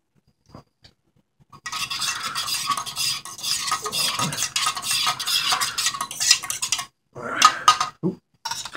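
Food is stirred in a pan with a utensil, giving busy scraping and clinking that starts after a short quiet gap, runs steadily for several seconds, then breaks into a few last bursts.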